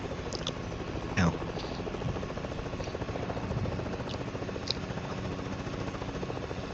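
A helicopter in a video game drones with a steady low rotor hum throughout, fairly faint, with scattered game effects and players talking.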